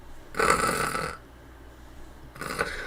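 A person snoring indoors, with two loud, close snore breaths separated by a quiet pause, the second one starting near the end.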